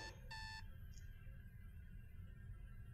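A mobile phone alarm in the horror video game Is Simon There gives a short burst of bright electronic beeps, then a single faint tone, over a low dark rumbling ambience.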